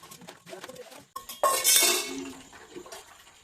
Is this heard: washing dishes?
yes